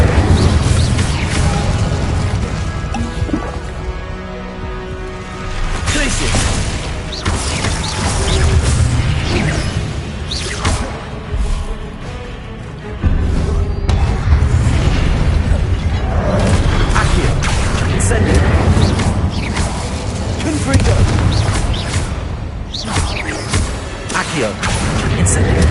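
Dense, continuous Hogwarts Legacy combat din with whooshing fire spells, crashes and booming impacts overlapping throughout, loud and unbroken, with a voice speaking over the battle noise.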